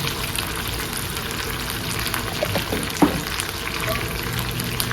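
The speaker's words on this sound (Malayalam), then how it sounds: "കുറച്ച് കടുക് ഇടുക." Mustard seeds fry in hot oil in a pan as a steady, close sizzle with a faint pop or clatter partway through, and no clear talk.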